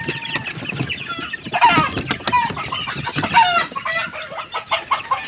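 Chickens and half-grown chicks on a poultry farm cluck and chatter in a dense, continuous flock chorus, close and fairly loud, with frequent overlapping calls and no break.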